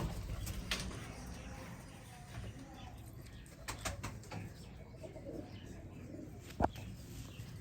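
A Sialkoti pigeon coos softly among other birds, with a few faint calls and rustles over a low background and a voice speaking nearby.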